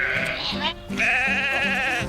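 Sheep bleating close by on a manor house farm, two drawn-out wavering bleats, the second longer and louder, with faint background noise.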